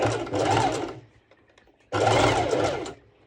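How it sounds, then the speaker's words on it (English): Domestic sewing machine stitching a neckband on a mesh halter-neck top, two loud close bursts of rapid whirring stitching about a second each, separated by a short quiet pause. "I go to my normal sew machine and I'm doing a bust stitching just to secure these"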